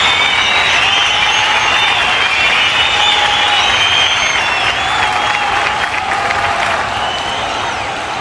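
An audience at an outdoor political gathering in Ramnagar gives a steady, loud round of clapping that fills the whole stretch and tapers slightly at the end.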